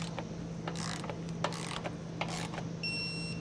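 A torque wrench tightens trailer hitch bolts on a 2022 Jeep Grand Cherokee, giving a few short ratcheting clicks in quick bursts against a steady low hum, close by.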